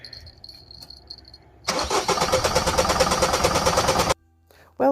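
A diesel car misfuelled with petrol cranks and fires up, settling into a loud, rough, rattling idle for a few seconds before abruptly cutting out, with a faint hum beforehand and a brief noise at the end.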